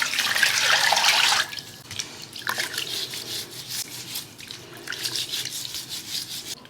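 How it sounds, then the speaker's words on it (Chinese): Tap water gushes into a kitchen sink over raw pork, loud at first, then gives way to softer splashing and wet rubbing as the meat is rinsed by hand. "加水洗一下。"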